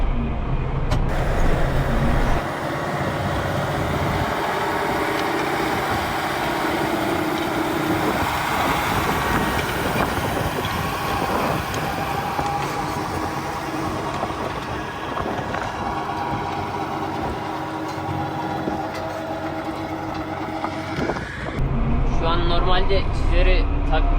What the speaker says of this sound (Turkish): Şu an rotatifi çekiyor abim.